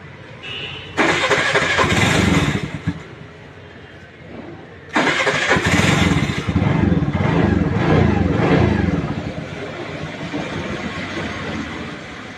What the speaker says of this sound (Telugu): ఎక్సలేటర్ మనం అలా వదిలేయగానే బండి అయితే ఆగిపోతుంది